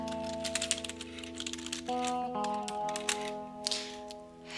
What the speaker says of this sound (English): I would then type in my address here